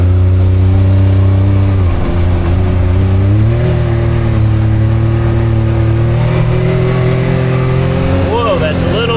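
A 2025 Can-Am Maverick X3 Turbo Max engine hums steadily through a quick U-turn in max shift-on-the-fly steering mode, its pitch dipping and rising as it swings around, with a person talking over it.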